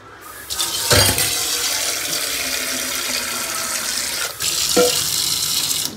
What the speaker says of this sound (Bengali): তো ভাতে একটু জল লাগবে।